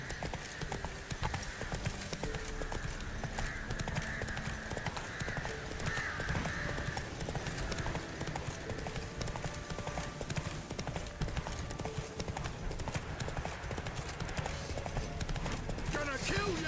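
Roach, the horse in the video game The Witcher 3, trots with a steady clip-clop of hooves under dense game music and ambience, while someone talks over it.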